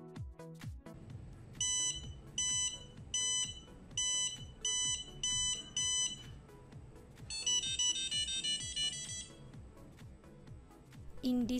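An Arduino-driven electronic buzzer beeps in a repeating pattern of short bursts, then switches to a faster warbling alarm tone, over faint background noise.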